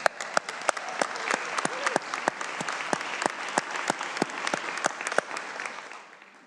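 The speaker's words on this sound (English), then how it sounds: "Can we give Kendra a round of applause" Applause breaks out from an audience on a legislative house floor, a steady wash of many hands with sharper close claps cutting through at a regular pace. It stays loud, then tapers off toward the end with no talking over it.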